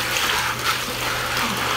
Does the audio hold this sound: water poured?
yes